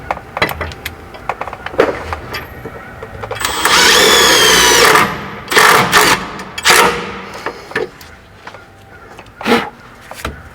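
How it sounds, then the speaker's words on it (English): A power drill drives self-tapping screws into the metal arm of a van side step during a shop install, with a sustained whirring burst in the middle and several shorter loud spurts and clanks around it. "now we're going to secure some self-tappers to the upper portion of the arm"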